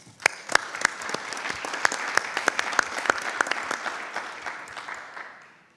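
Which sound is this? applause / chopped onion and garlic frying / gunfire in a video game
applause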